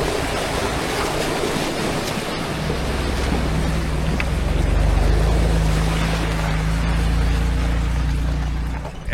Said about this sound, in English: we've got a little water crossing to handle here